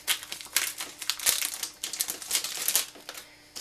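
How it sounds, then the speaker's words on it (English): A Butterfinger candy bar wrapper being unwrapped, with close, crisp crinkling and crackling of plastic in uneven bursts over a few seconds. "unwrap my Butterfinger"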